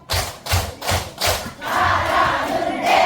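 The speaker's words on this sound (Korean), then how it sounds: "박수 네 번 시작." A senior college audience claps four times in unison, four loud, evenly spaced group claps followed by a burst of crowd cheering and shouting.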